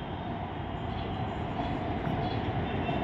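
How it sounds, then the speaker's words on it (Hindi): A Mumbai metro train passes below a high vantage point, giving a steady, continuous rumble and rolling hum that holds evenly throughout with no talk over it. "ये मेट्रो जा रहा है, देख लो"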